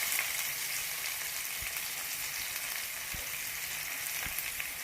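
Green chillies and onion frying in oil for a prawn fry, an even, moderately loud sizzle with two or three soft low thumps from the pan, no speech.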